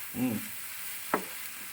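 Contents of a pan sizzle while a spatula stirs and scrapes during cooking of egg bhurji. There is a soft scrape, then a sharper clack against the pan over a steady frying hiss, with no talk.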